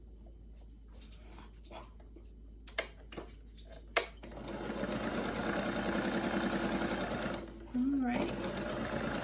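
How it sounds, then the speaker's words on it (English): A sewing machine stitches quilt patches together in a steady running whir that starts partway through and continues close and moderately loud, with a brief pause, while someone speaks a word and light handling clatter precedes it. "so I'll just sew a few more and see what we can do with them"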